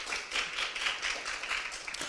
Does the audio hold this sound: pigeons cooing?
no